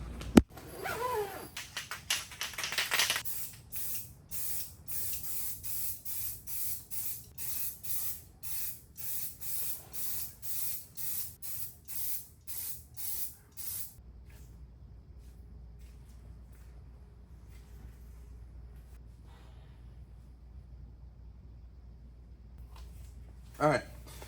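Rapid bursts of a spray gun hiss in an even rhythm while a final coat of paint goes onto a car's transmission tunnel, then the spraying stops, leaving a low steady hum.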